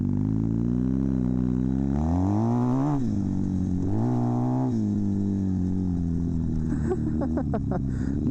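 Kawasaki KZ400 tracker motorcycle riding on dirt, engine loud and close as it revs up, settles, then surges again with rising pitch and rapid throttle blips near the end.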